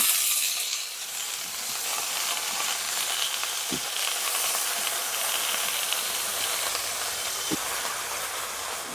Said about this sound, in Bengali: কাঁচা লঙ্কা তেলের উপর দিয়ে দিলাম এবার পালং শাকগুলো দিয়ে দিবে